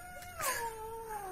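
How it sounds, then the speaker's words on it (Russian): A pet cat gives a single drawn-out meow with a rising then falling wail, heard close and clear over a quiet room with no talking. "Виолетта, покорми кота."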